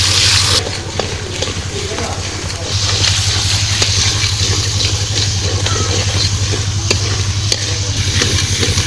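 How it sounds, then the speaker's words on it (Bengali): Onion and garlic paste fried with turmeric, chili and cumin-coriander powder for a village-style fish curry, sizzling steadily in a pan with repeated scraping stirs and a low hum underneath, close and fairly loud. "মশলাটা ভালোভাবে কষাই নেব"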